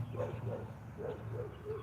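Several dogs, a neighbor's among them, bark outdoors at a moderate distance, giving about five evenly spaced barks over a low steady background hum.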